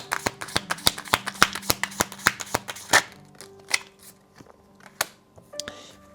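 Tarot cards being shuffled by hand, a quick run of crisp, close riffling snaps that thins out into a few scattered flicks and taps.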